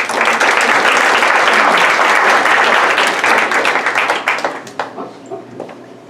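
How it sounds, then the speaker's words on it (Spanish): An audience gives a guest speaker a loud, dense round of applause at a session, sustained at first and then thinning into scattered claps as it dies away. "Pido un aplauso para el licenciado."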